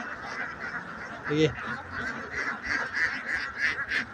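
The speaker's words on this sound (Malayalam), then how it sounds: "നമ്മുടെ പാടത്തു നിന്ന് കുറേ താറാവുകൾ വന്നിട്ടുണ്ട് കേട്ടോ" Ducks quack repeatedly in a noisy flock in a paddy field, a continuous busy chorus of calls at moderate distance.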